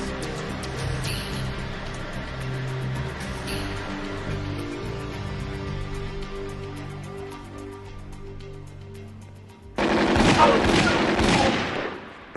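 Rapid burst of gunfire erupts near the end, loud and dense after a long stretch of low engine rumble and music-like tones, lasting a couple of seconds.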